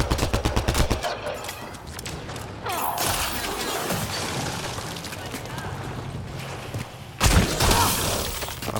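Rapid bursts of automatic gunfire in the sci-fi video game Mass Effect Andromeda, loud and dense, with a quick volley at the start and another burst near the end over continuous game noise.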